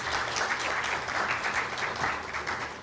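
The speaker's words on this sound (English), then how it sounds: "Let's give Mrs. Burke-Skeen another round of applause" A crowd applauds at an annual women's awards ceremony, steady dense clapping that holds at an even level for the whole stretch, with no voices over it.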